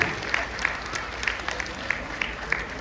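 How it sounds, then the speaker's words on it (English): An audience at a kindergarten family day applauds the teachers, giving steady, moderately loud clapping with a few sharper individual claps standing out. "our teachers team needs a huge round of applause for managing this"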